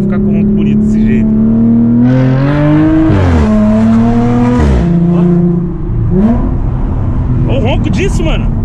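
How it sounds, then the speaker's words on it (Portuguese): A nearby Audi A7 with a straight-pipe exhaust revs hard, its loud raw roar climbing and falling through several throttle blips before it settles into a rough, rumbling idle. "eu não achei que o carro ia ficar com um ronco bonito desse jeito"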